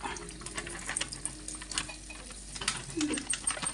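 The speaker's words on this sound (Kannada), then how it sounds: "ಇವಾಗ ಒಗ್ಗರಣೆ ಮಾಡ್ತಾ ಇದ್ದೀನಿ" Spices for a village-style drumstick-leaf and lentil stir-fry sizzle in hot oil in a home kitchen, with a soft crackling hiss under occasional stirring scrapes and a few louder pops.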